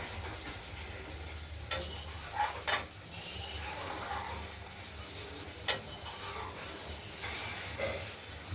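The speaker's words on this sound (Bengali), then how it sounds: "সেই আলু আর মশলা দিয়ে কষানো চলছে" Potatoes with spices and stone-ground masala sizzle and fry steadily in a pan for a paneer fritter curry, with a spatula stirring and scraping the pan in a few sharp clinks and scrapes over the continuous hiss.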